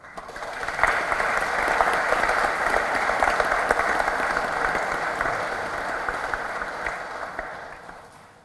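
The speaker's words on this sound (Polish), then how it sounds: "teraz możemy bić brawa" A church congregation of the faithful applauds at an anniversary ceremony in Piotrków, a dense, steady wash of many hands clapping that swells quickly, holds for several seconds and tapers at the end, with no voices over it.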